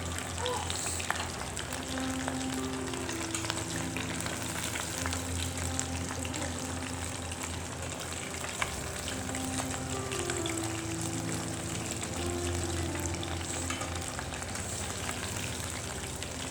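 Dabo chicken frying slowly in mustard oil over a low flame, a continuous bubbling sizzle with faint crackles, steady and close without speech.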